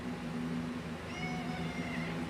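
A cat meows in a few faint, thin cries over a steady low hum and background noise, recorded indoors during a live stream.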